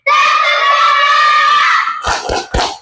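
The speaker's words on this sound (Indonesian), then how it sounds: "Pelajaran silakan berdiri, kita tepuk semangat bersama-sama." A school class shouts an energetic chant together in a loud, sustained burst, then three sharp, closely spaced claps ring out at the end.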